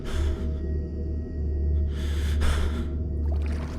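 Heavy, ragged panting breaths in the horror video game Visage, several loud gasping inhales and exhales close up over a low droning hum, no talk.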